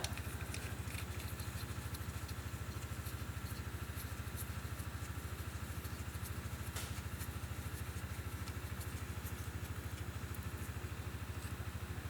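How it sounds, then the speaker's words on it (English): A steady, droning mechanical hum with a rapid low pulse runs continuously from a distant sawmill, like an engine with no oil, with no voices. "it sounds like an engine that has no oil in it. Ah, it's a sawmill."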